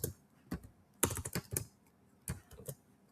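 Computer keyboard typing while entering an account name in SAP S/4 HANA software: short bursts of close, crisp keystrokes in scattered clusters with quiet pauses between them.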